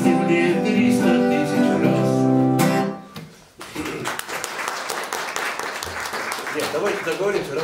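An audience at an author's song evening breaks into applause after a musical passage ends, dense clapping that carries on steadily under a speaking voice.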